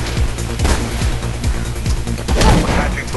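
Rapid bursts of gunfire crackle through a busy first-person action scene in the video game Mirror's Edge, repeated shots layered over a dense mix of game sound effects.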